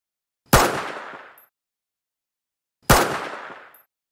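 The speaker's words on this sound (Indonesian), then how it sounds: "Roy lalu ditembak Carl di kepala." Two loud, close gunshots ring out a couple of seconds apart in a violent film scene where a man is shot in the head. Each blast is sharp and followed by a short decaying echo, with silence around them.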